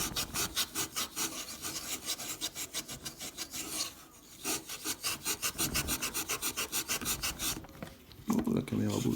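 Fine 000 steel wool is rubbed in circles over a Napoleon III five-centime coin, making rapid rhythmic rasping strokes, close and fairly quiet, with brief pauses between bursts.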